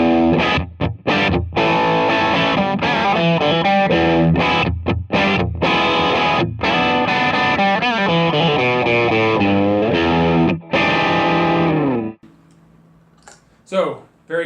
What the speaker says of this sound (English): So, very crunchy, very meaty, very Brit style.